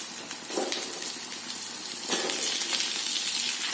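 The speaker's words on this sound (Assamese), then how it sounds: "এতিয়া মই ইয়াতে আলুখিনি দি দিম।" Potatoes frying in hot oil with golden-brown onions for a chicken curry, a continuous close hiss of sizzling with a couple of louder bursts as pieces are stirred in.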